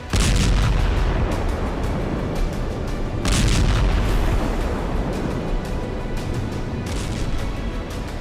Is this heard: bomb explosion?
yes